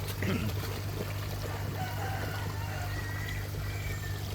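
Water gushing steadily from the outlet of a 3-inch airlift pump with a 2-inch outlet, a continuous loud rushing pour with a constant low hum underneath.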